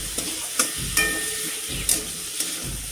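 Cumin, coriander, melon seed, cashew and green chilli pastes fry together in a pan, a steady close sizzle broken by a few sharp scrapes of stirring.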